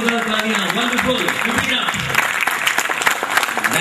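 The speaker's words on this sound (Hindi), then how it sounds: "जोरदार तालियां, वंडरफुल" Loud, sustained audience applause at a 2010 Navratan function, a dense steady roar of clapping that continues throughout with a voice or music faintly mixed underneath.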